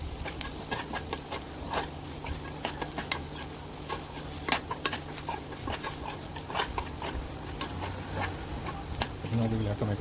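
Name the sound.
roasting masala spices in a pan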